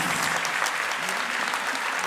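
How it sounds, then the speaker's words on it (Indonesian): Lively audience applause at an evening collaboration concert, dense, even clapping from a large crowd throughout. "Boleh sekali lagi tepuk tangan yang meriah"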